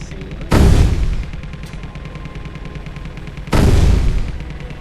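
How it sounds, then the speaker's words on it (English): A heavy ship-mounted gun in the game Space Engineers fires two loud, booming blasts about three seconds apart, each with a ringing tail, over a steady mechanical hum. "Jeez, this gun's just hitting that shit."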